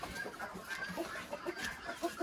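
Hens clucking softly nearby on a farm, a series of short repeated clucks in an irregular rhythm over faint background noise.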